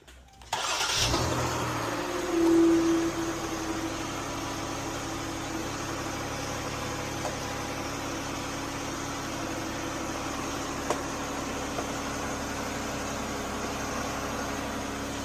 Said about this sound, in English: you go ahead and start it up